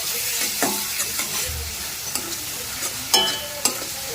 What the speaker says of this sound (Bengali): এবারে 2-3 মিনিট কিন্তু খুব সুন্দরভাবে আমি নাড়াচাড়া করব, গ্যাসের ফ্লেমটা কমে রেখে।